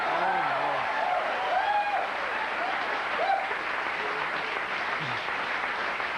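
Studio audience applause at a late-night television talk show, a dense, sustained wash of clapping filling the room, with bits of voices and a few whoops poking through the crowd noise.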